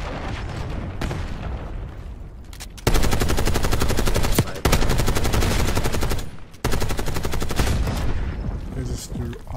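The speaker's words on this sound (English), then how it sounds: "I got a machine gun right here. Let's do it. Let's shoot through walls." Sustained automatic machine-gun fire in the shooter Black Ops 6, loud and close, with long rattling bursts broken by brief pauses and a quieter stretch of scattered action at the start.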